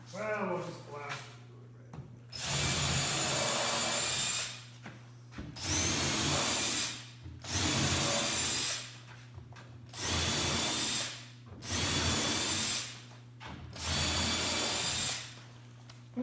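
Power drill bursts during a truck camper build, roughly six loud whirring runs of about a second and a half each, separated by short pauses, with a steady background hum throughout.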